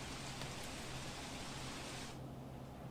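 Heavy downpour in Umarpada, Surat district, with water flooding the road: steady, even hiss of rain close by, quiet overall, with the brighter upper wash dropping away near the end.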